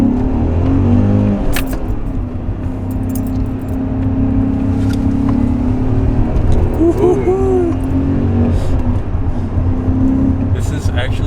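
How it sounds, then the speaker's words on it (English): A BMW E39 M5 engine hums steadily and then climbs in pitch as it accelerates, heard from inside the car on a back road, with faint rattles in the background. "I really like the engine sound"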